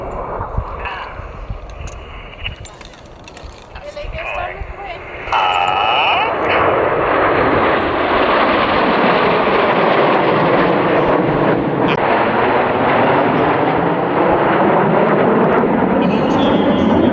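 Red Arrows jets roaring past at an air festival, starting quieter with scattered crowd and background noise, then a loud, sustained broadband jet roar that builds and holds steadily for the rest of the span.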